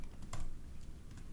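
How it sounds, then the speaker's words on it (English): Quiet, uneven typing on a computer keyboard, with a handful of close, soft key clicks in a brief burst. "typing some words."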